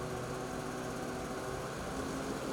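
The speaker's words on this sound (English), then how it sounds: "start the engine again and apply a small amount of throttle until the track turns slowly" A Polaris Patriot Boost Indy VR1 snowmobile engine runs steadily at low throttle with its track turning slowly, giving a continuous, even mechanical drone with a buzzy high edge.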